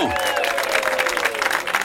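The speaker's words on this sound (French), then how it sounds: "on n'a pas entendu les applaudissements du public pour le personnel du Petit Bonhomme" A crowd applauds restaurant staff at a celebration, a continuous wash of clapping and cheering that runs under overlapping voices throughout.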